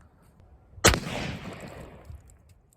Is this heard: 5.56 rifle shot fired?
yes